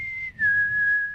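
A person whistles an imitation of a naval boatswain's call: a clear, steady high tone that dips slightly in pitch, then holds a sustained note for about a second.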